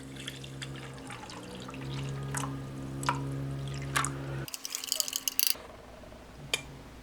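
About 200 millilitres of water poured into a pouch to mix an orange drink powder from a Croatian 24-hour combat ration, a close gurgling trickle with drips and squishy plastic rustle, under a low steady hum.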